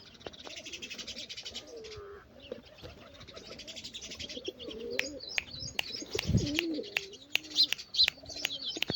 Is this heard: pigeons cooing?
yes